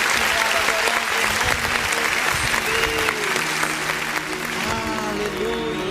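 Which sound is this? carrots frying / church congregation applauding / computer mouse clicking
church congregation applauding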